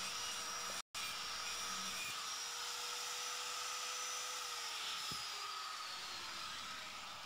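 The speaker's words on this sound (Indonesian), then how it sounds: "Lalu kita bersihkan sedikit ya dengan dipoles gerinda sedikit untuk pengelasan yang berikutnya." An angle grinder polishes a fillet weld on a 2F joint, a loud, continuous high whine with hiss, cut by one brief silent gap near the start, with no speech.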